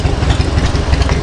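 Loud, close motorcycle idle in slow traffic near Mount Fuji's Five Lakes: a steady low chugging pulse with slight mechanical clatter, brief and uninterrupted by voices.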